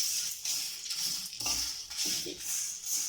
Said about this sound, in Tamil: இப்போ கருவேப்பிலையே போட்டுக்கலாம்.